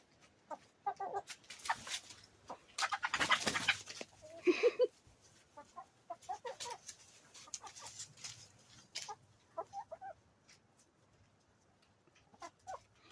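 A small backyard flock of six hens, one smaller than the rest, clucks in scattered bursts while investigating cabbage; the calls come in short, fairly close clusters, busiest early on and then sparser.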